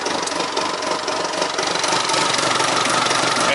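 A Volvo Penta MD22L marine diesel engine runs steadily and loudly up close, a dense rough clatter with no pauses or changes in pace.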